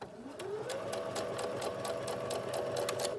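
A sewing machine stitching shirring with elastic thread at a slow, steady speed, a close, continuous whirring hum with a rapid rhythmic needle tick. The motor pitch rises slightly as it starts up.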